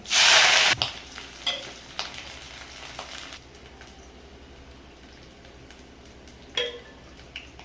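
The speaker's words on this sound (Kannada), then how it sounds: "ಸ್ಪೂನು ಸಾಸಿವೆ ಒಗ್ಗರಣೆ ಹಾಕ್ತಿರೋದು ಈರುಳ್ಳಿ ಕರಿಬೇವು" Mustard seeds, onion and curry leaves hit hot tempering oil with a loud burst of sizzle, then settle into a quieter crackle broken by a few sharp stirring clanks.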